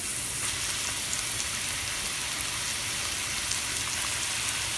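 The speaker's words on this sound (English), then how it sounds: "I'm going to let this saute and sweat down a little bit." Mushrooms sautéing in olive oil in a non-stick pan, a dense, even sizzle and crackle that holds steady and close for the whole stretch.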